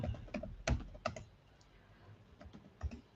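Scattered keystrokes on a computer keyboard, a few quick bursts of light clicks with pauses between, close and fairly quiet, with no talking.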